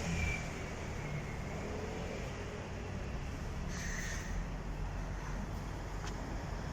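A London route 168 bus pulls away from a stop near Hampstead Heath, heard as a steady low engine rumble blended with distant road traffic, moderately far off and even in level, with no one speaking.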